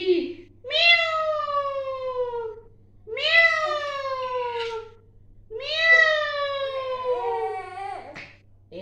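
A cat meows three times, each a long, drawn-out, close and clear cry with short pauses between.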